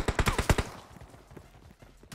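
A rapid burst of loud, close gunshots in PUBG Mobile gives way to fainter, scattered shots further off, with no talk over them.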